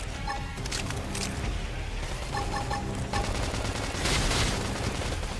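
Rapid bursts of gunfire in the sci-fi video game Xenoblade Chronicles X, crackling volleys layered with combat effects and sharp electronic tones, loud and continuous.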